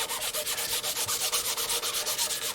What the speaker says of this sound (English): It's called sanding.